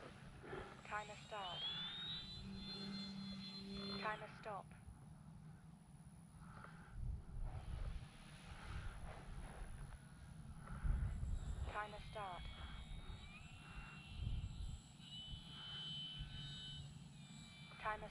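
A Hacker Super Zoom XL RC airplane makes two faint, distant passes, its motor whine rising and falling each time, under talk and outdoor background noise.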